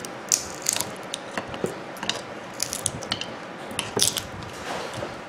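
A flathead screwdriver pries apart a burnt-out microwave oven transformer, giving a string of close metallic clicks, scrapes and ratcheting snaps at an uneven pace.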